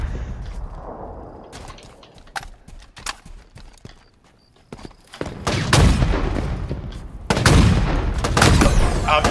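Sharp rifle shots crack out during a team sniper match in Halo, scattered single reports early on, then heavier bursts and explosive blasts that grow louder toward the end.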